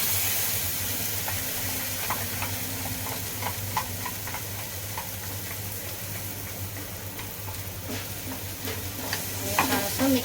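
Masala of tomato purée with ginger and garlic paste stirred in a hot pan, a steady close sizzle with soft scraping strokes and an underlying low hum, no talking.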